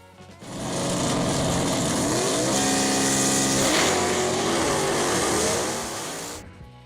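1962 Pontiac Catalina Super Duty 421 V8 revving, a loud rough engine roar rising and falling in pitch across a few seconds before cutting off, close and without talk.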